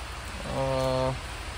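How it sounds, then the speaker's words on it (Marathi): Steady rain hisses over a Konkan village in the monsoon, an even wash of noise broken midway by a short, clear tonal note rising above it. "आणि पाऊस बघा अजून सुरूच आहे."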